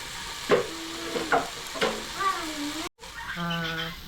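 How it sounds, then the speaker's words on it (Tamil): Onions with salt sautéing in a pan for a fish curry, with stirring scrapes and a soft sizzle under a voice talking, broken by a brief silent gap. "இது கூட கொஞ்சம் உப்பையும் சேர்த்து வதக்கணும்னா சீக்கிரம் வதங்கிடும்"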